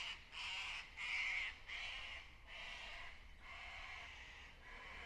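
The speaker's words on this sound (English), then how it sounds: "Cockatoos." Cockatoos in spring woodland, sounding as a run of harsh, raspy squawking calls one after another, steady and fairly distant.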